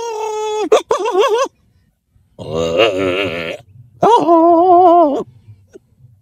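A man imitates a goat's bleat with three loud, close, quavering calls separated by short silences, the middle one rough and buzzing.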